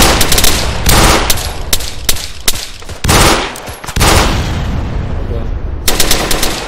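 Rapid automatic gunfire from a video game set on an island escape map, loud bursts of machine-gun fire with brief pauses between volleys, while a player speaks briefly under the shooting.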